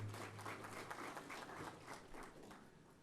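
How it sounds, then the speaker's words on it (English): An audience at a ministerial regional business engagement in Omusati Region applauds the Governor, a faint, fairly distant wash of clapping that fades out by the end. "Let us give another round of applause to the Governor."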